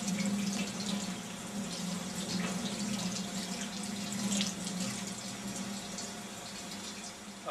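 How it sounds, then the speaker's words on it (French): Tap water runs steadily into a sink while a fish is rinsed beneath it, a continuous close splashing stream with small fluctuations and no speech. "Rincer le poisson"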